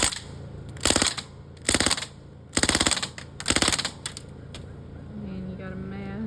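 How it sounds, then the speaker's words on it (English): Bursts of rapid fully automatic fire from a DMPS BB rifle aimed at a hornet nest, four distinct loud volleys separated by short pauses, then a few scattered single shots and quieter background noise. "We're going to eliminate that hornet nest with our DMPS fully auto BB rifle"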